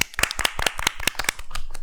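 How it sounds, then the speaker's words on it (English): Quick, close hand clapping from a small group celebrating a channel anniversary, with a brisk, uneven patter of sharp claps lasting a couple of seconds. "Let's give a round of applause"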